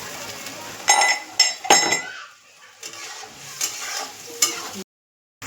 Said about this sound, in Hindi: ये हमने डाल दिया है प्याज और मिर्ची और जीरे का पेस्ट। ये खूब अच्छे से फ्राई हो जाएगा।